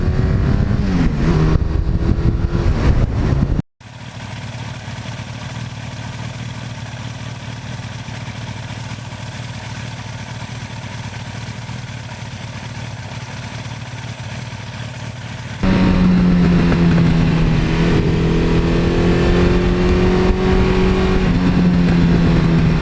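A 1982 Suzuki GS1100E air-cooled motorcycle engine runs steadily near the microphone, cutting out briefly after a few seconds, then settling into a continuous drone before the revs rise and the engine note climbs louder toward the end.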